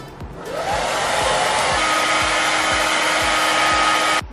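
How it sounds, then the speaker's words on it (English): A Cisco blow dryer starts with a click and runs loud and steady, a constant close whoosh with a faint whine, cutting off abruptly at the end. "This is the Cisco blow dryer in case anybody cares."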